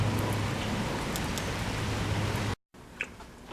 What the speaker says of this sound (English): So this is what I got to deal with all day long here. Rain